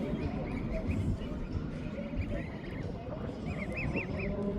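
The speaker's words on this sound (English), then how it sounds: "I'm led to believe that geese mate for life" Geese honk in short bursts over a steady wash of background noise, the calls coming in small groups at a moderate distance.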